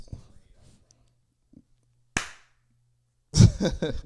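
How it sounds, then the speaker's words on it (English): A single sharp hand clap used as an audio sync marker, a brief isolated broadband snap in a quiet room, followed moments later by a person talking nearby. "I'll clap again"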